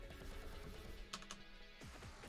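Typing on a mechanical keyboard gives faint, quick clicks, with a couple of sharper key strikes near the middle, set against a steady low background hum.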